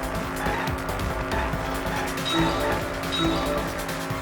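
Racing car in the Danganronpa V3 video game driving hard, with an engine hum and repeated short tire squeals over a steady game soundtrack.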